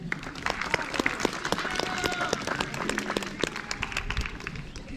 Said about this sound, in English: You give a clap if you like.